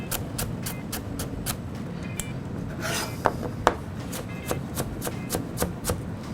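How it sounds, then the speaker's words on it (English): A knife cuts pad thai ingredients into thin strips on a cutting board, giving a steady run of quick, close, crisp taps over a low background rumble. "just cut thin strips one way, and then just get it quite thin"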